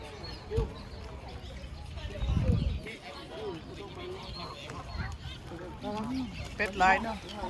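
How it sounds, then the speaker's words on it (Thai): A flock of farm ducks raised for eggs quacks and honks in scattered bursts at moderate distance, under frequent conversation between people nearby. "เป็ดหลายเนาะ"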